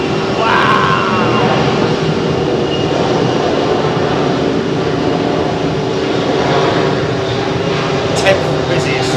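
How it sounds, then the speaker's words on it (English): A Qatar jet airliner passing low on approach to land, a loud, sustained engine roar that stays steady throughout, with people talking over it. "that Qatar jet is coming in very, very low"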